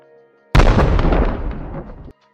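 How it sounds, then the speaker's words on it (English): A single loud explosion sound effect bursts suddenly after a moment of near silence, then rumbles and decays over about one and a half seconds before cutting off abruptly. "None of these sound like huge explosions"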